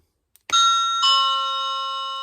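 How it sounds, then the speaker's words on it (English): A budget mains-powered doorbell sounds a loud two-tone ding-dong right after a faint click, the second, lower note ringing out and slowly fading, close by and alone. "let's turn it back on and see if it goes ding dong"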